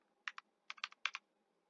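Keystrokes on a computer keyboard while entering Python code, a few quick clustered taps in two bursts, close and crisp against a quiet background.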